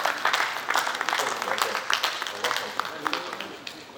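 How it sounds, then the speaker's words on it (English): Audience applause rises at a panel session as the moderator comes forward, with fairly sparse, distinct claps of moderate loudness mixed with some background voices. "Let's give him a round of applause even as he comes forward."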